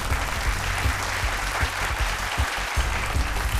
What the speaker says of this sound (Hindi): चलिए जोरदार तालियों से स्वागत किया जाए आज के 10 नए